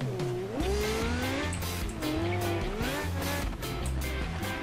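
Simulated car engine in the BeamNG.drive game, with a loud continuous drone whose pitch rises and falls as the car revs and shifts, and tire squeal sweeping through the upper register across the whole stretch, close and steady with no talking.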